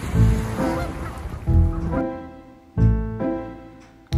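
Canada geese honk in loud, harmonic bursts, several calls spaced a second or two apart, close by and with no speech.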